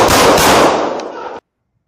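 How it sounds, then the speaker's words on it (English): Police firing an AR-15 rifle fitted with a low-power variable optic at a suspect: a very loud, close blast of rapid gunfire that roars for over a second, then cuts off abruptly into silence. "The cops engaged the suspect with the AR-15 with the LPVO"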